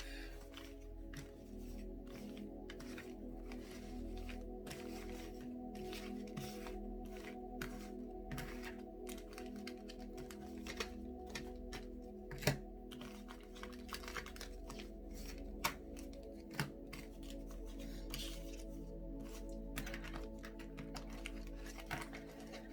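Tarot cards being shuffled by hand with long fingernails, giving a long run of soft, rapid clicking and riffling taps with a few louder knocks, close and quiet, without speech.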